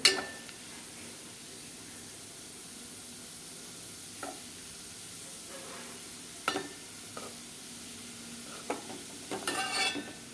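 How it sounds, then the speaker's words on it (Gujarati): Quiet scraping and light clinks of a spoon stirring cabbage and chili sambharo in a pan, occurring as a few sparse taps over a faint sizzle. "ચમચાથી થોડી વાર હલાવતા રહેવાનું"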